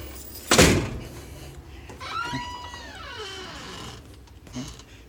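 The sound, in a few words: DIY smart door shut and locking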